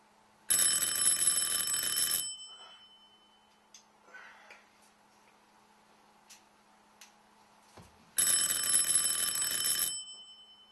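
An electric doorbell rings in two long, harsh bursts separated by a quiet gap with a few faint knocks and shuffles.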